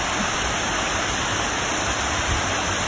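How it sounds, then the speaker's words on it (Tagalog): Floodwater rushes near buildings in a steady, loud, broadband roar of flowing water with no pauses, heard close and without voices. "Tapos dito, may baha."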